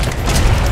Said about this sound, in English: Rocket spam for days!